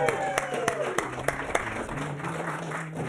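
A studio audience applauds the vocal group Straight No Chaser, a steady wash of clapping with a few sharper individual claps, while a voice speaks over it.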